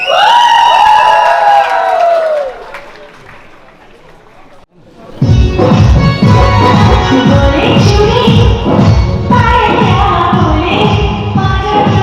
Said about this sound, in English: let's cheer loudly for the Desi Gang